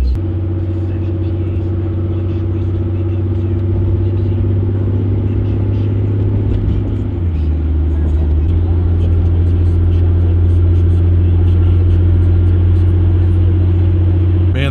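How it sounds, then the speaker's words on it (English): A 2018 diesel pickup truck cruises on the road with a continuous low engine rumble and a faint turbo whir that shifts pitch slightly as the throttle changes, steady and close from inside the cab. "I can hear the volume of the turbo decreasing or increasing, and it's always spinning in there"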